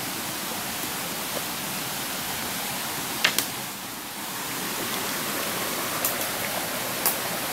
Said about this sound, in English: There's the spring right there.